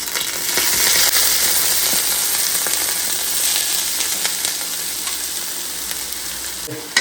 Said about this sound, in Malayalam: സവാള ഇട്ട് അത് നൈസായിട്ടൊന്ന് ഇളക്കി കൊടുക്കുക